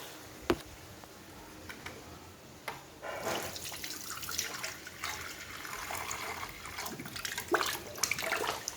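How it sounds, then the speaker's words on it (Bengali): Water is poured into chicken cooking in a pan; after a few quiet seconds with a couple of knocks, a steady splashing pour runs on, close by, with no talk. "এবার আমি এর মধ্যে একটু জল মেশাবো।"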